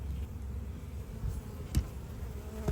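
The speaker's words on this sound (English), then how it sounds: "For some reason, there's a lot of bees up here on the inside of the inner cover." Honey bees hum inside an opened hive during an inspection, many of them crawling on the inner cover, making a steady low, close drone with a few louder passes, and no one talking.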